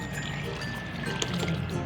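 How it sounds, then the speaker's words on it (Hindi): Chickpea cooking water is poured steadily into a chickpea curry (choly ka salan) in a home kitchen, giving a soft, continuous splashing trickle that stays fairly quiet throughout. "हम इसमें डाल रहे हैं छोलों का पानी"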